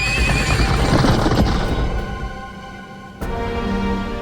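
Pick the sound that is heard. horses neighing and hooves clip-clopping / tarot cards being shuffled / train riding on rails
horses neighing and hooves clip-clopping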